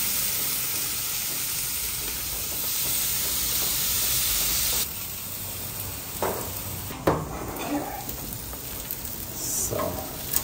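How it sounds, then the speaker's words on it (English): Costco tomahawk steaks searing on a hot barbecue, a loud, dense sizzle and hiss that drops suddenly partway through, followed by softer sizzling with a few brief sputters and pops. "we're ready to sear the meat"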